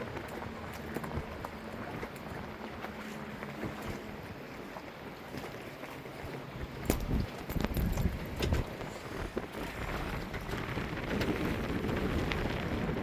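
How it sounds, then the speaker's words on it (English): Wind blows over Banks Lake in Washington on a day of rough water, a steady broadband rush with microphone buffeting that grows in gusts, with no voices. "It's windy though."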